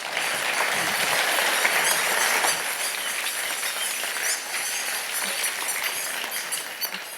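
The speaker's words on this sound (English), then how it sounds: "please give a very carefully quantified dose of high-energy applause for Dr. Samantha Terry" An audience at the Ada Lovelace Day Live event applauding a guest speaker, a dense, sustained wash of many hands clapping with faint cheering, steady and fairly loud for the whole stretch.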